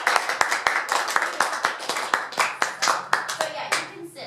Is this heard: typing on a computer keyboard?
no